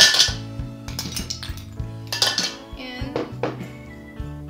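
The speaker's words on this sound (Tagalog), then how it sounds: "gusto kong unang ilagay is yung ice natin" Ice cubes dropped into a container for a mango graham shake with tapioca, making a run of sharp clinks and clattering knocks, close and fairly loud, with music playing underneath.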